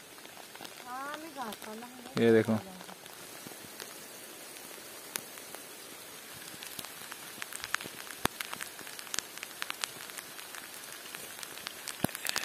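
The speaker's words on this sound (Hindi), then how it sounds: "देखो बारिश हो रही है बहुत मस्त" Light rain patters softly and steadily on leaves, scattered drops ticking nearby, while someone speaks briefly near the start.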